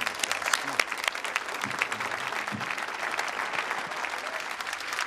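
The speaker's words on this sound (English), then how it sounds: "Give me a round of applause." An office crowd in a film scene breaks into loud, sustained applause, dense clapping with scattered sharp claps and faint crowd noise underneath.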